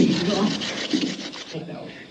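Wood rasping against wood as a fire drill is worked to make fire, a steady scraping rub that pulses in short strokes, close and fairly loud, with no voices.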